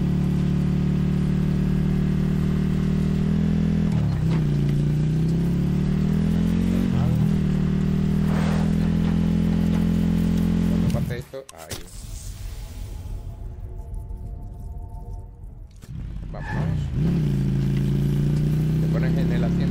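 A motorcycle engine in Call of Duty Black Ops on PS4 Pro drones loudly and continuously with small rev swells, broken midway by a few seconds of clattering noise before the engine tone returns.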